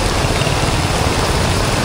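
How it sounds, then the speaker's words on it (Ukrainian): Heavy rain pouring down at a market in Vietnam, a loud dense continuous hiss and roar with no pauses, close and enveloping. "Бо неможливо навіть іти таким дощем."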